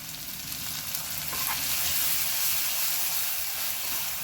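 Masala sautés in a pan for a curry of sprouted green moth beans, with a dense, constant hiss and sizzle and one faint stir partway through.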